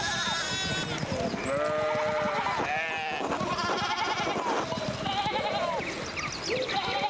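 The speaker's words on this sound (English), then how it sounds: "One of the fence rails fell and the sheep started hopping it." Sheep bleat repeatedly in overlapping, wavering cries, loud and close, in the video game Pentiment, a flock loose after a fallen fence rail.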